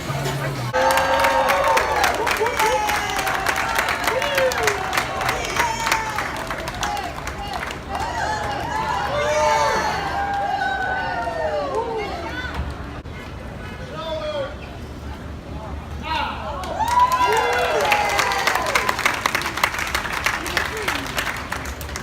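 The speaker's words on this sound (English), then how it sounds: "Oh, what's that crowd looking at?" A crowd gathered in downtown Boston's Faneuil Hall area during a pizza festival claps and cheers, with steady applause and hubbub running throughout, swelling again near the end amid voices.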